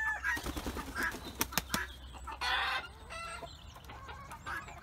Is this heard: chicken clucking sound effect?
yes